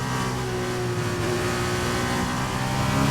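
Racing car engine in rFactor 2 on the Austrian GP circuit during the last lap, a continuous droning roar held at steady pitch and volume with no voices.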